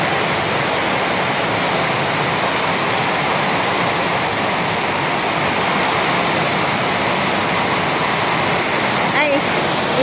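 Heavy rain pours in a steady, loud broadband rush, with water coming indoors during a downpour at a home in the Philippines.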